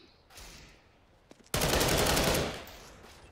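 Automatic gunfire in Counter-Strike: Global Offensive, a rapid burst of shots lasting about a second, fairly loud over a low background hum from the game.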